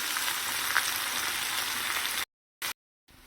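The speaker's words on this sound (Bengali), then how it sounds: "একটু ফ্রাই করে নিই এটা" Grated coconut and yardlong beans fry in a pan with a soft, steady sizzle close by, then the sound cuts out abruptly with a brief burst in between.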